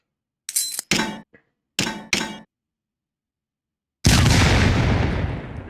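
A flash grenade from Soldier of Fortune II sounds in a short series of metallic clinks and clangs separated by silence, followed by a loud sustained burst that slowly fades.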